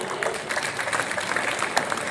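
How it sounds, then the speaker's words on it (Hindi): A crowd applauds at a Hindi poetry recital with a brief, even wash of clapping from many hands. No single claps stand out, and no one speaks. "एक बार तालियां बजाकर आदेशित कीजिए।"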